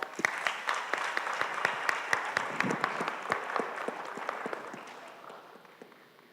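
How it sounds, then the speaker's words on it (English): An audience at a university lecture and performance event bursts into sustained applause, dense overlapping claps with sharp individual hands standing out, steady and fairly close before tapering off slightly at the end. "So can you all please give a round of applause?"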